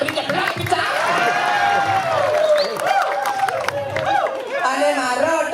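A crowd claps and cheers at a Balinese calonarang performance at Pura Dalem Singakerta temple; dense, continuous applause mixes with loud shouting voices.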